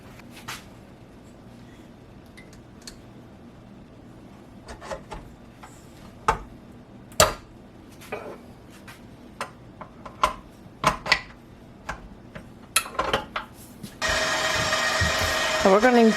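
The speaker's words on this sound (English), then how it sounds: "we're going to let the machine knead this for about 5 minutes or so" A machine kneads sourdough-discard Hawaiian roll dough. Scattered clicks and knocks of handling give way near the end to a steady, loud mechanical whir as kneading starts.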